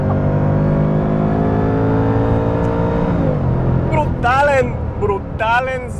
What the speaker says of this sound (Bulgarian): Наистина един от най-яко звучащите двигатели, които съм чувал.